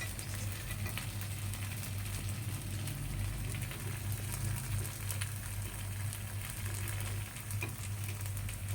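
Idli batter ponganalu (gunta paniyaram) frying over a low flame, giving a steady, continuous sizzle and bubbling that stays close and even throughout with no talking.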